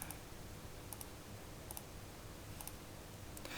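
Keyboard typing, a few sparse, faint clicks spaced out over a steady background hiss, no talk.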